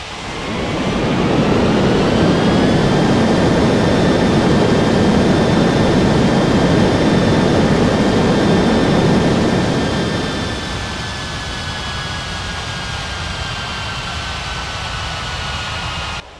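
An airliner's jet engines roar on landing approach at an international airport in an air traffic control game, loud and sustained with a high whine that glides slightly upward, then the roar eases to a softer steady drone.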